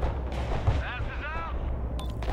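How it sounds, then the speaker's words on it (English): Rocket artillery fires in the Broken Arrow war game, a run of booming launches and blasts under a radio-style voice, with loud broadband bursts continuing through the short stretch. "Rocket artillery at your order, sir."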